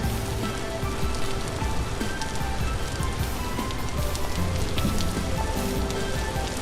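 Rain falling in the Vintage Story video game, a dense, steady hiss of drops on surfaces, even and unbroken throughout with no voices.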